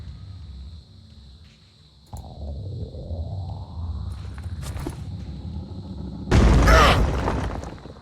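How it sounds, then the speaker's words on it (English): A grenade explosion in the tactical game Phoenix Point bursts loudly near the end, after a quieter stretch of rumbling ambience and a rising whoosh. "when I say a grenade, I mean as many grenades as I have that feel relevant"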